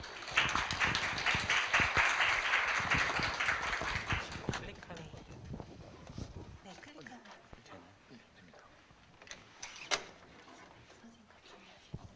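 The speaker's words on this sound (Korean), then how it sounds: "청중 여러분께서는 큰 박수로 맞이해 주시기를 부탁드리겠습니다" An audience at a university AI forum claps to welcome a KAIST professor to the podium, a dense burst of applause that fades after about five seconds into scattered claps and faint room noise.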